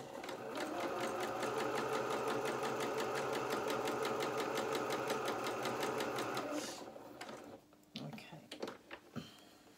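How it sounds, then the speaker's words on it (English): A sewing machine with an overstrained spring stitches fabric in a fast, steady whirring run for several seconds, then stops, followed by a few light clicks and handling sounds. "I think I've overstrained my spring on my sewing machine."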